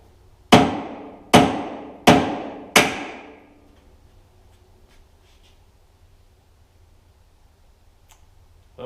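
A hammer strikes metal on an old brown Jeep, four loud, ringing blows roughly a second apart, each with a short metallic decay, followed by several seconds of near silence.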